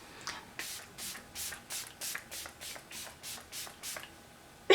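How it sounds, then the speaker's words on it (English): A rapid series of about ten short, crisp bursts of setting spray misted onto a face at a steady rhythm, close by, each a soft hiss with brief pauses between. "Now we're going to take the spray and spray my face to kind of mesh all this in"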